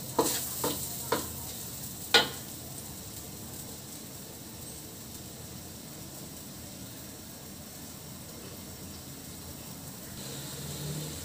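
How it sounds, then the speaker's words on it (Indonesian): Spices frying and being stirred in a black wok for a beef rendang dish, with a steady soft sizzle and a few sharp scrapes and clinks near the start. "saya akan gorengnya dulu sampai dia wangi ya."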